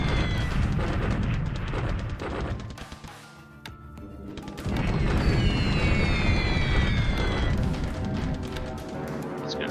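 Repeated bombing explosions in a WWII Pacific strategy game raid over Rangoon, a dense, loud rumble of booms with a brief lull midway before the blasts resume at full strength.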